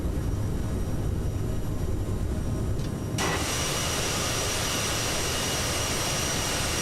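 A Bombardier CRJ-700 jet in Microsoft Flight Simulator spools up for takeoff, a steady loud roar that jumps to a fuller, brighter engine blast halfway through and holds there.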